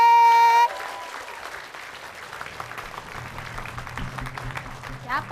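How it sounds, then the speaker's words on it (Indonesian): A studio audience claps at a comedy contest show, starting after a brief tone and building into steady, moderately loud applause that swells slightly at the end. "Tepuk tangan dulu sekali lagi."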